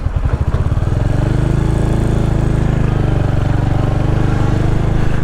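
A 2023 Royal Enfield Hunter 350 single-cylinder motorcycle engine thumps close and loud while riding, a steady low rumble after a brief pulsing start, with no talk.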